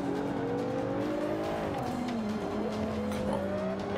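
Slightly damaged race car in Forza Motorsport 5 accelerating: a loud, continuous engine roar that climbs in pitch, dips on a shift, then climbs again, with faint tire squeal underneath and no voices.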